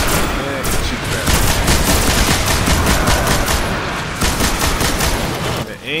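Rapid bursts of automatic gunfire crackle almost without pause from weapons in the Xbox 360 video game Destiny, loud and dense with a brief lull near the end; voices talk over it.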